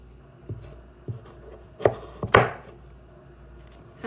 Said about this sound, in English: back to slicing these up